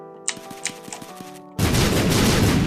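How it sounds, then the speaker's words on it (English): Bombs spawned by the Anarchist Cookbook item in The Binding of Isaac: a few light game blips give way to a sudden, loud, continuous roar of rapid explosions that fills the rest of the clip. "It will spawn bombs everywhere"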